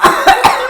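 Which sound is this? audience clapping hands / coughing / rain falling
coughing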